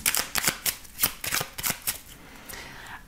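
Lenormand cards being shuffled for a card reading, a quick series of crisp riffling bursts close by, repeating rhythmically over about three seconds with no talking.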